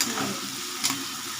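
Ingredients for a spicy tilapia curry fry in hot oil in a pan with a close, steady sizzle, a brief spatter of stirring briefly rising over the constant crackle.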